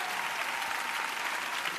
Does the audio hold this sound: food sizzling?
no